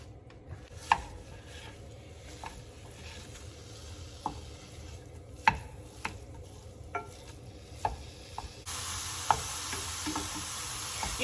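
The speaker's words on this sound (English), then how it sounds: "we're going to begin this recipe by adding 1 pound of ground beef to our skillet" One pound of ground beef cooks in a skillet, with a quiet sizzle under sharp scraping and tapping taps of a utensil breaking up the meat, and the frying grows louder near the end.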